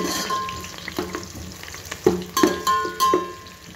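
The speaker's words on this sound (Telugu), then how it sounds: "అవి వేడెక్కిన తర్వాత గింజలు, బిర్యానీ మసాలాలు, ఎర్రగడ్డలు, పచ్చిమిరపకాయలు, పచ్చికరివేపాకు అన్నీ వేసా" Onions, green chillies and biryani spices fry in hot oil and ghee for egg biryani, a close crackling sizzle broken by several sharp stirring scrapes and clanks of a ladle against the pot.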